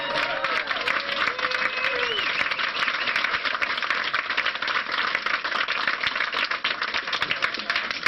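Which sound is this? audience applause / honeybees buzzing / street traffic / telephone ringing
audience applause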